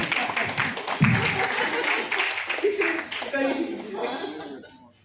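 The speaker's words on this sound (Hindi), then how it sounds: "तालियां बजाई जा सकती हैं." An audience at a panel event claps and chuckles while a voice keeps talking over it, the applause dense at first and then thinning out and fading toward the end.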